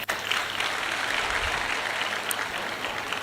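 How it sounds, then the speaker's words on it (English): Steady audience applause fills a graduation and policy unveiling ceremony in Katsina State, a dense wash of many hands clapping without pause, loud and close, with no talk over it. "Your big round of applause"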